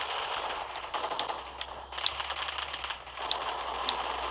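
Rapid automatic gunfire from a video game gun fight crackles in dense bursts, close and loud, with a couple of brief pauses between volleys.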